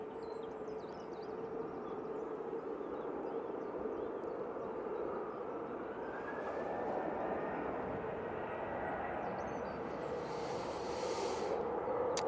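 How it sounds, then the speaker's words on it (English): A Ryanair jet bound for Marrakesh on its takeoff roll at windy Manchester Airport, a steady, distant engine roar with a rising whine, heard alone in open air. "Ryanair to Marrakesh on the roll."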